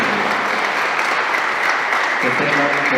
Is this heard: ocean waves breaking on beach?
no